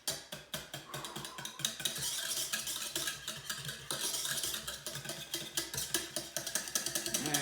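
Eggs with cream and butter stirred in a saucepan, a busy, continuous scraping and clinking of utensil against pan that runs steadily throughout without any talking.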